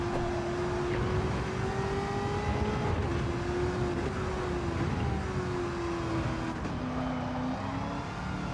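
Race car engine in Gran Turismo 7 during a licence test, holding a steady drone with its pitch rising and falling through gear changes, continuous and loud throughout with no talking.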